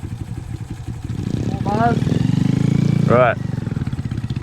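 A motorcycle rides along a remote road, its engine droning steadily and close, with buzzy rising tones as it revs, while a voice says a brief word over it.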